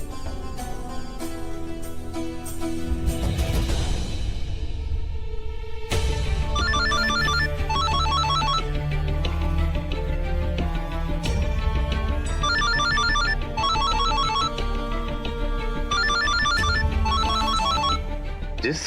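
A telephone ringtone plays in a Hindi TV drama scene: a repeating melodic ring sounds in regular bursts over background music, loud and clear, with no talking.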